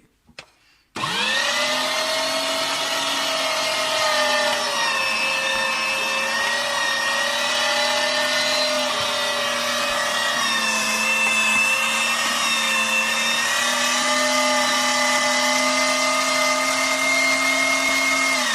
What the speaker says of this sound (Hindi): और हमारा ये लहसुन के जवे सब कुछ इसी में आसानी से पिस जाएगा। हरी मिर्च, अदरक, ये सब इसमें हम अब पीस लेंगे।